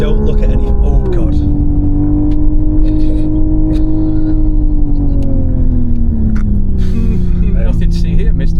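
Simulated engine note from a Hyundai IONIQ 6 N driven on a proving ground track, a steady synthetic exhaust drone that drops in pitch as it settles into a burble, with scattered brief pops, under continuous talk inside the car.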